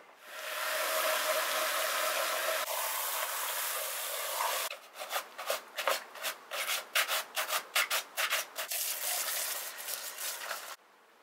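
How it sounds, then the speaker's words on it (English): Plastic scrub brush scrubbing a boiled elk skull, a steady broadband rubbing hiss for several seconds that breaks into a quick series of short, separate scrubbing strokes before a final sustained scrub, close and alone. "I just scrubbed it a little bit with a plastic scrub brush"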